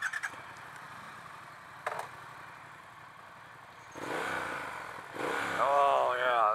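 A Triumph Speed Twin 1200 motorcycle engine grows louder in the second half, a rising engine note with a revving climb near the end after a quieter stretch with faint clatter.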